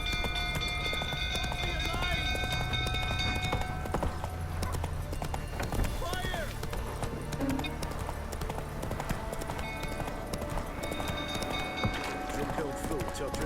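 Roach, Geralt's horse in The Witcher 3, clip-clops along at a trot in a steady, close hoof rhythm, joined by a brief whinny, while voices talk and shout over the scene.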